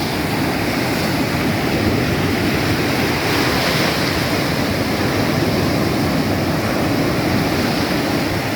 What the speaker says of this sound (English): we kind of can't go on the water because there's a lot of waves and it's a bit dangerous